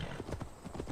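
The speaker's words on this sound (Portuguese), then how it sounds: "Que bom que o cavalo pulou" Horse hooves clip-clopping in quick succession for under a second in Assassin's Creed Valhalla, faint and muffled.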